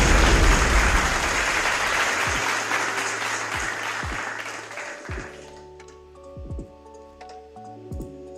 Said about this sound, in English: Let's clap it up for the land of smiles